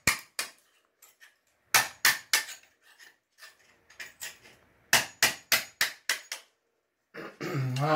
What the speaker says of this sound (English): take the hammer, smooth that off to the tile line